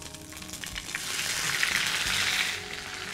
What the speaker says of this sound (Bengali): আমার তেল হয়ে গেছে খুব গরম, দিয়ে দেবো একটা তেজপাতা, দিচ্ছি শাহ-জিরে, দিচ্ছি আদা বাটা